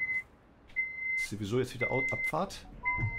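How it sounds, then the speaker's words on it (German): A mobile phone beeps in a pattern of steady high tones, several short beeps repeating at intervals, while someone talks over part of it. "Das ist mein Handy, das mache ich immer schnell auf lautlos."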